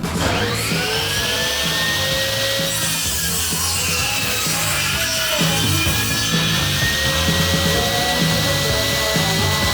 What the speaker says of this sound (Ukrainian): давайте тепер попробуємо сотий брус порізати, побачимо і замірюємо, скільки сантиметрів ріже